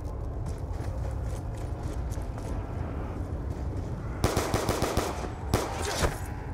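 Rapid gunfire from the Black Ops 2 Nuketown Zombies video game sounds over a constant game background, with loud bursts of fast shots in the second half.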